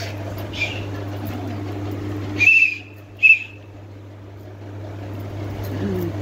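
A toy whistle gives two short, shrill blasts in quick succession over a constant low mechanical hum.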